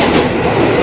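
A train passes close by with a loud, steady rumble and rushing roar that fills the whole moment without a break.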